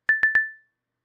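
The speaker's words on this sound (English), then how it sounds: "So this is the sound alert that I have for severe thunderstorm warnings." Three quick identical electronic beeps in rapid succession, a bright severe thunderstorm warning alert tone with the last one ringing out briefly before silence.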